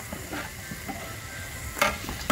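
Food frying in a pan, a low steady sizzle close by with a few soft stirring scrapes and a brief louder clatter near the end.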